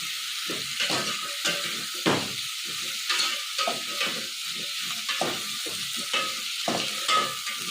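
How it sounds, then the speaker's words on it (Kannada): Radish pieces sizzle and fry in hot oil for a Malnad-style radish sambar, with steady close crackling broken by repeated stirring scrapes in the pan, no voices. "ಇದು ಎಣ್ಣೆಲ್ಲೇ ಸ್ವಲ್ಪ ಫ್ರೈ ಆಗಲಿ"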